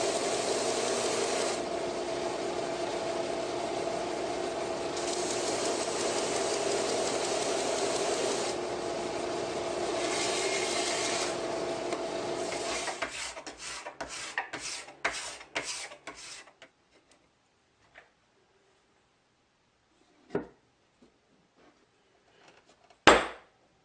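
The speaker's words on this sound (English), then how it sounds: "Now before I glue that bottom on, I'm going to make sure everything is smooth and sanded." A wooden serving tray is sanded smooth before its bottom is glued on, with a steady loud rasping that stops and starts in long passes for about thirteen seconds, then breaks into short strokes and scattered faint knocks.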